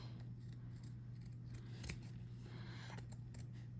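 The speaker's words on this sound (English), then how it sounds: "so then we'll trim it" Scissors trim glued felt up close, making a quiet series of crisp snips over a steady low hum in a room.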